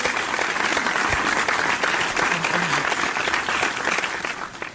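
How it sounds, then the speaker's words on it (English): Steady, sustained applause from a crowd, dense clapping filling the whole stretch at an even loudness. "Another round of applause for Queen Sim."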